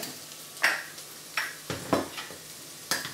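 Onion and celery fry gently in a pot as flour is stirred in, with a soft steady sizzle broken by several scraping spoon strokes at an uneven rhythm, close by and with no talking.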